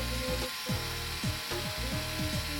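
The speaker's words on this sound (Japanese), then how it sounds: "1mm のドリルで、慎重に作業しています" Small 1 mm drill bit boring a pilot hole, a steady close whirring drone with repeated short pitch drops as the bit bites, heard alone throughout.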